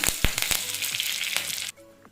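Mustard seeds crackle and pop in hot ghee, a dense close sizzle with sharp bursts, then it suddenly drops to a quieter fizz.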